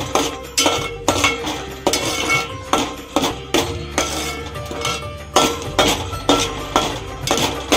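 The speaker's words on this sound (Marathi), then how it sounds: "हे मसाले आपण परतून घेऊ." Ground masala paste for a Maharashtrian prawn curry is stirred in a metal pan, with loud, repeated clanks and scrapes of the spatula over a low frying hiss.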